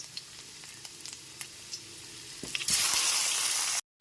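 Boiled taro pieces go into a pan of frying potatoes for a vegetarian taro curry; quiet oil crackle and a few light taps give way to a sudden louder surge of sizzling, close by, then a brief cut.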